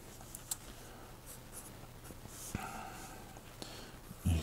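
A pen scratches out a small music note on paper, faint soft strokes and light taps close by in a quiet room, with a brief louder scrape partway through and no talking.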